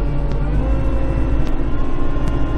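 A tractor fitted with a front end loader drives and turns, its steady engine rumble running loud and continuous with faint mechanical clatter, no voices over it.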